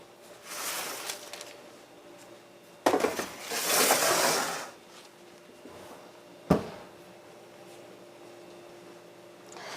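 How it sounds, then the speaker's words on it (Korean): A tray of macaron cookies slides into a preheated oven, with metallic clanks, a rattling scrape and a sharp thud as the door shuts, all heard close up without talk. "자, 오븐에 한번 넣어보겠습니다."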